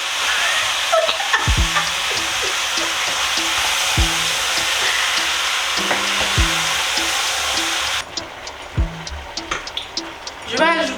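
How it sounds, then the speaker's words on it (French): Smoked pork roast sizzling and frying in a pan while being stirred, a steady loud hiss with repeated scraping knocks of the spoon; the frying noise drops sharply near the end, leaving quieter crackles. "Je mélange."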